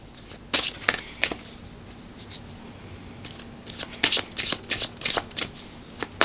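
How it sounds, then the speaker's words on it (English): Tarot cards shuffled and drawn during a love reading: a few crisp riffling bursts early, then a dense run of quick card snaps and slides toward the end, close and clear with no talking. "Let's pull another clarifier card for the Knight of Wands"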